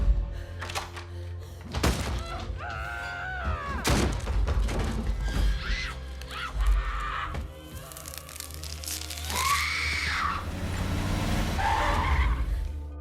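A car braking to a stop on a road in a film, with tire skidding, heavy thuds and impacts amid dramatic music and a busy mix of effects.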